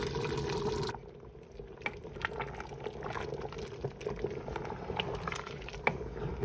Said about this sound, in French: maintenant je vais laisser encore mijoter une bonne demi-heure